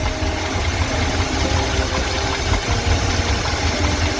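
A 1986 Ford F250 engine with a carburetor idles steadily and loudly up close, its low rumble and mechanical clatter even and continuous, with no voices.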